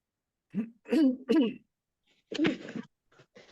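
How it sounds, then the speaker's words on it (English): Someone clears their throat with a few gruff rasps, followed by a softer cough-like grunt, close and fairly quiet. "Sorry, I'm clearing my throat."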